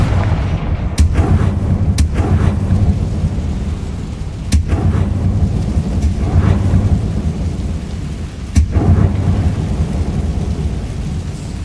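Confringo explosion spells cast in the video game Hogwarts Legacy, several sharp blasts ringing out over a loud, continuous rumbling roar of the game's background sound.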